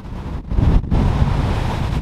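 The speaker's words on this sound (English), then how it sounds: "The winds are strong, the waves are big, Mother Nature is angry." Strong wind buffets the microphone while big waves crash and surge on Lake Erie during a spring storm, a loud, rough roar with brief gusty drops and no talk.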